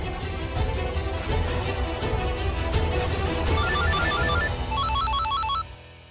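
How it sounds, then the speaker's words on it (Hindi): A phone ringtone plays over a dense, busy background, its repeating melodic beeps sounding in bursts before cutting off near the end. "फोन आ रहा है।"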